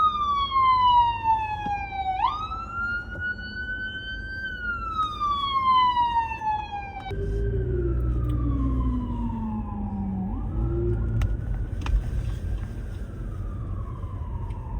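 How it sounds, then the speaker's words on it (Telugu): An ambulance siren in Manhattan traffic wails loudly nearby, its pitch sliding slowly up and down, with a second siren joining partway through over a heavy traffic rumble. "అరే అంబులెన్స్ వస్తుంది అరే ఆపురా"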